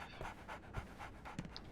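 Dog panting in the Sherlock Holmes: The Awakened video game, a steady, fast rhythm of breathy huffs, close and fairly quiet, with no talking.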